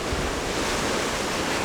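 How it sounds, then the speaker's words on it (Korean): Strong wind whips up heavy surf on the Namibian coast near Sandwich Harbour, where desert meets the sea, making a loud, unbroken roar of crashing waves mixed with gusty wind noise and no voices. "바람이 많이 불어서 파도가 진짜 많이 쳐요 지금."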